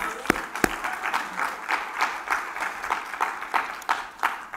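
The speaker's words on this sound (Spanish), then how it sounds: "Dale palmas al Señor por esto." A church congregation claps together for the Lord, loud rhythmic unison clapping in a steady beat after a couple of sharp opening claps.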